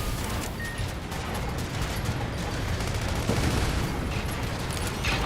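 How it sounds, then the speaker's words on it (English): Steady machine gun fire in the video game Sand Land, a continuous dense rattle of rapid shots mixed into a loud, noisy game soundscape with no clear pauses. "Shoot him down with the machine gun!"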